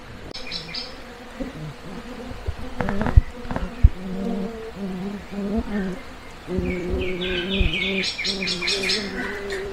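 A strong stingless bee colony buzzing steadily while the hive is opened and split, the close insect drone mixed with bird chirps and brief knocks, swelling louder in the second half.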